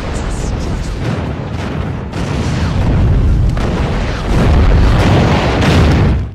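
Allied artillery fire from World War II booms and roars in heavy, overlapping blasts that rise into a loud, sustained rumble, dense and close.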